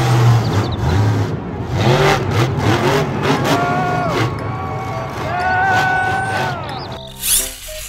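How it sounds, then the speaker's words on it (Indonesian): Toy monster truck revving with a continuous buzzy engine whine that rises and falls in pitch, fairly loud throughout, with a brief burst near the end. "Mobil truk monster."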